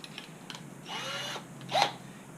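A quarter-inch bit whirs briefly into a homemade ice fishing tip-up, a short rising buzz under a second followed by a quick scraping burst, over faint steady background noise.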